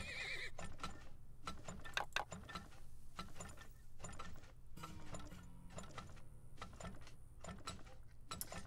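Horses neigh and whinny in the oil-drilling video game Turmoil, mixed with clip-clop hooves and ratcheting mechanical game clicks, repeated bursts at moderate volume with no talk.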